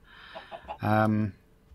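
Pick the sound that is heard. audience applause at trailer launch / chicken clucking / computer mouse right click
chicken clucking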